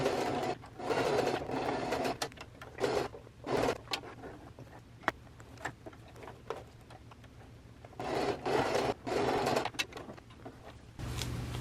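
A sewing machine winds a bobbin during a garment-sewing session, giving close, mechanical whirring bursts that start and stop in several runs with faint clicks between them.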